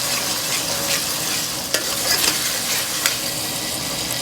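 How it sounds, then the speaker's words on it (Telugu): Ginger paste fries in a pan as khichdi is started, with a constant close sizzle broken by sharp scrapes and taps of a spoon stirring against the metal. "అల్లం పేస్ట్ ఫస్ట్ వేసుకుందాం."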